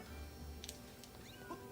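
A cat in the video game The Legend of Zelda: Skyward Sword gives a few short, faint meows over a quiet, steady game background with no speech.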